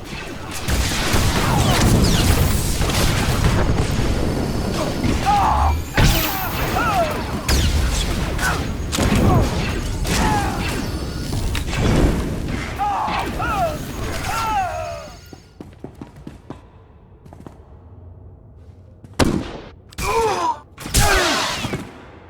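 Blaster gunfire and explosions in Star Wars: The Old Republic, with dense bursts of shots and crashes under a voice and clashing effects, then a quieter stretch broken by a few sharp late blasts.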